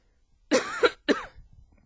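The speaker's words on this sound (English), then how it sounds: "I have this dry cough that's pretty dang gum annoying" Two harsh, dry coughs in quick succession, close to the listener, followed by a faint exhale.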